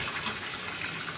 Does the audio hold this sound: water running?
yes